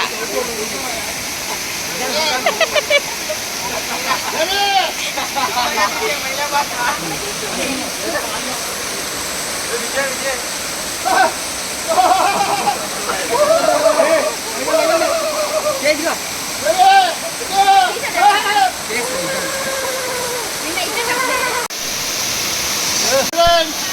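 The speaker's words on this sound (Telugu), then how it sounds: "మారేడు మళ్ళీ వాటర్ ఫాల్స్" Rampa waterfalls rush as a steady loud hiss of falling water throughout, with excited voices talking and calling over it nearby.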